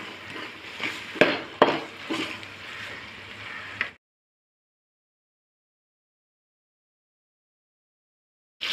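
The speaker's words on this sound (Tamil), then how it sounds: "இதில் தக்காளியை போட்டு நல்லா வதக்குவோம். நல்லா கிண்டி விடுங்க." Tomatoes and onions frying in a pan while being stirred, with scraping and sizzling clatter for about four seconds before the sound cuts to silence.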